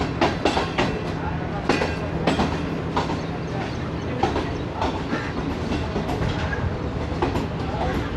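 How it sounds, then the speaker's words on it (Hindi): The Shalimar Express, an AC Standard passenger train from Lahore, rolls into Faisalabad railway station with steady rumbling and repeated clickety-clack wheel beats heard from on board, while voices murmur faintly underneath. "फैसलाबाद रेलवे स्टेशन पहुंच गई है ट्रेन"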